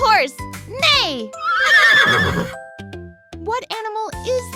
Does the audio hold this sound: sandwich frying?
no